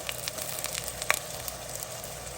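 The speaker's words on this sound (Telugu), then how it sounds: "ఉల్లిపాయలు వేగుతున్నప్పుడే 1 స్పూను అల్లం వెల్లుల్లి పేస్ట్ వేస్తున్నా" Sliced onions with a spoonful of ginger garlic paste sizzle softly in hot oil while a mutton chakoli breakfast is cooked, a faint steady frying hiss with a few small crackles.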